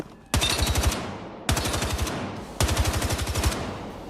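Three rapid automatic bursts from a scoped rifle fitted with a 2x sight in Battlefield 6, each a loud, sharp rattle of about eight shots with a ringing tail, separated by short pauses.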